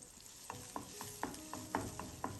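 Chopped onion in hot oil is stirred in a pan with a soft steady sizzle, and a spoon knocks and scrapes the pan in a regular rhythm of about eight quiet strokes.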